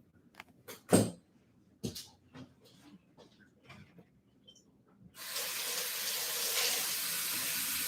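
A kitchen tap is turned on and water runs steadily and fairly close, following a few scattered knocks and handling clatters in a quiet room.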